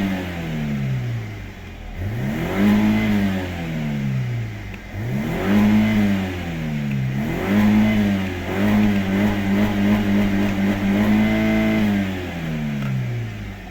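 A 2005 BMW 316i 1.8 petrol engine with automatic transmission revs repeatedly, the pitch sweeping up and falling back in several long surges, loud and close, with no talking.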